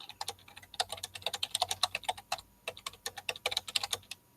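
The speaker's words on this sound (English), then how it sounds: "You are the fastest typer I've ever seen that can't see shit." Fast typing on a computer keyboard, with dense bursts of close, crisp key clicks and one short pause partway through.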